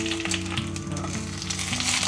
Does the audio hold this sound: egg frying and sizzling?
yes